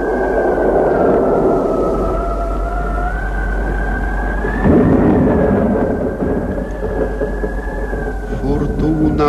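Storm effect in a 1955 Romanian radio play of Shakespeare's King Lear: a loud, continuous rumbling roar of wind and thunder with a rising, wailing tone, carrying on throughout with a swell midway.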